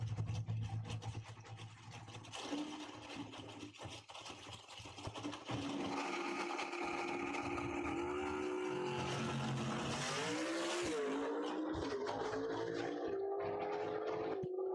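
A Camaro drag races down a quarter-mile dragway, its engine note climbing through gears, loud and droning over the track's ambient noise with a rising whine toward the end of the run.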